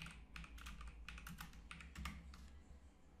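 Keys clatter in quick bursts of typing on a computer keyboard during Revit and Power Query work, close and steady over a low room hum, with no voices.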